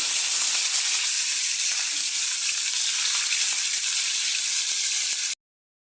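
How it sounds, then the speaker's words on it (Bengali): Rui fish pieces frying in oil in a pan, a loud, continuous close-up sizzle and hiss with faint crackles, holding steady for about five seconds before cutting off abruptly to silence. "মাছগুলো দিয়ে এক সাইড ভেজে নিব"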